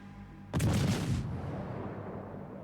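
A single heavy naval gun salvo of high-explosive shells from the Chapayev cruiser in World of Warships, booming suddenly and loud, then a long rumbling decay with no talk.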